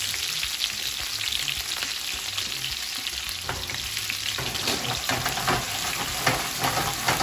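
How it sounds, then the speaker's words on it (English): Vegetables for Jamaican cook-up salt fish sauté in a skillet, a continuous close crackling sizzle with occasional stirring scrapes and no talk. "Let these saute for like maybe like 2 to 3 minutes."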